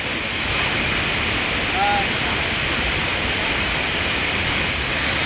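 Dabhosa waterfall near Jawhar in Maharashtra, a dense steady roar of falling water heard close up, loud and unbroken throughout with no change in level.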